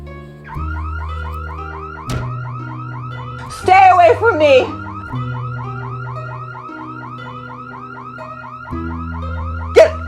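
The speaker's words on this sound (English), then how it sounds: "She lunged for the panic button on our house alarm." A house alarm triggered by a panic button wails loudly and continuously in a repeating electronic pattern, with someone shouting frantically over it midway.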